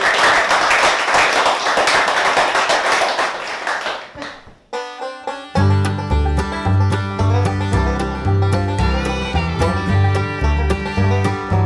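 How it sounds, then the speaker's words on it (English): A crowd of Week O' Wheeling participants applauds with dense, loud clapping for about four seconds, which fades out before music starts. "Give yourselves a round of applause."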